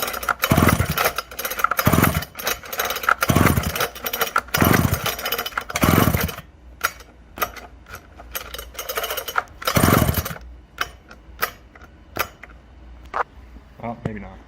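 A Pioneer P38 chainsaw after a coil swap is cranked by its recoil starter and fires in several short, loud, close bursts that die away, followed by sparse clicks and knocks, with brief talk between.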